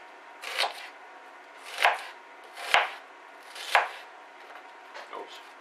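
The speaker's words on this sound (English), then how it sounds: "we're going to chop this up fairly finely" A knife chopping vegetables finely for a Scottish cock-a-leekie soup: several crisp cutting strokes on a board, roughly one per second, close up, then a couple of fainter chops at the end.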